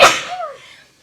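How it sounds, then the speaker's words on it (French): A single sharp sneeze triggered by dust in a bedroom, bursting loud at the start and trailing off into a soft tonal fade within a second, with no talk over it. "Je vais éternuer, attendez. Parce qu'il y a de la poussière dans ma chambre."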